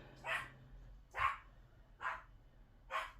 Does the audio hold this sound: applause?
no